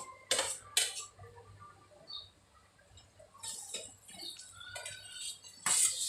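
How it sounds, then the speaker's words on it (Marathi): Boiled potatoes with turmeric and salt are stirred and sautéed in a pan, with metal spoon scrapes and clinks against the pan coming in irregular bursts. "मी बटाटी वगैरे घातली आहेत आणि त्यांना छान परतून घ्यायचं, एकजीव करायचं सगळं."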